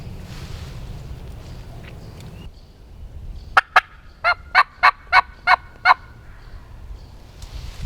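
A wild turkey gobbles once in the distance, two sharp notes then a rapid run of six pulses, over a quiet outdoor background.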